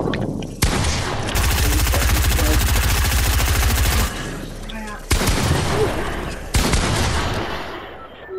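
Gunfire in the Fortnite video game: a long rapid automatic burst and several separate loud shots, sharp and close, with brief pauses between volleys.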